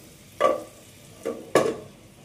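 Potatoes with turmeric powder fry with a low, steady sizzle in a pan, broken by three brief scraping stirs close by.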